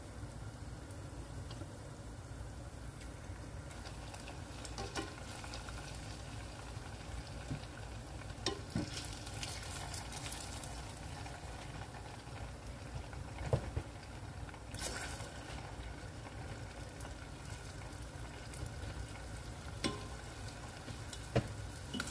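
Saba bananas fry in oil with a steady, soft sizzle and crackle, a quiet continuous hiss with occasional faint pops and clinks.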